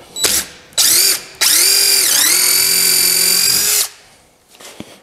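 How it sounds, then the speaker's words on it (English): A power drill bores countersink holes in a wooden deck rail, whirring in two short bursts and then one long steady run that dips in pitch under load before stopping, close and loud with no talk. "So what I'm going to do now is countersink the some holes in here."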